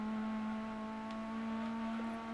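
Racing cars in Gran Turismo 2 give off a steady, droning engine buzz with a strong sustained tone, continuous and fairly faint.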